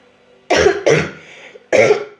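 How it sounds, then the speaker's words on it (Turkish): Three harsh coughs close to the listener, two in quick succession and then one more after a short pause. "Hala geçmedi öksürüğüm."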